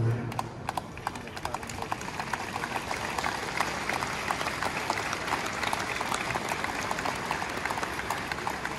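Crowd gathered in a church square in Italy applauding after a cardinal's words are read aloud, a dense, steady wash of many hands clapping throughout, with some voices mixed in.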